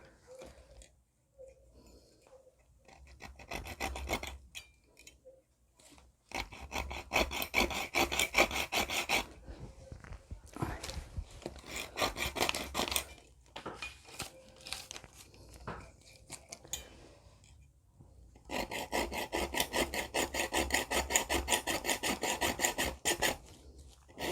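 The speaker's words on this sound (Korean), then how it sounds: "네, 이 톱으로도 한번 잘라 보겠습니다." Hand saw cutting through a piece of suction hose, giving bursts of rapid rasping back-and-forth strokes separated by brief pauses, close and fairly loud, with no talk.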